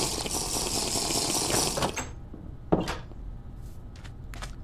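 Minecraft game water sounds: a steady liquid-like fill or pouring texture for about two seconds, then it cuts off, followed by a few short, faint splashy bursts spaced apart.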